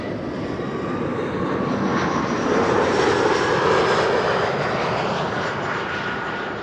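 A fixed-wing airliner arrives on the Kaagbaan runway 06 at Amsterdam Schiphol Airport, its engine roar building steadily and peaking midway before easing off, loud and continuous with no talk.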